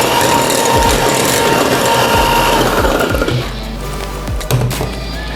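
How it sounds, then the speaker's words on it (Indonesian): Electric mixer whirring steadily as it beats four eggs with powdered sugar in a bowl, a loud continuous motor drone with rattling beater knocks, easing slightly in pitch partway through; no talking. "Kita mixer hingga Etna gula halusnya larut."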